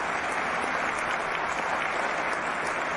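Dense, steady applause from a crowd, continuous and even for a few seconds without any voices, celebrating a piece of formation flying.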